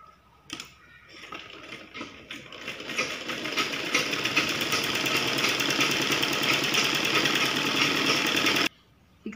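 A sewing machine stitches blouse cloth, its steady rapid needle clatter running loud and close for most of the stretch before stopping abruptly near the end.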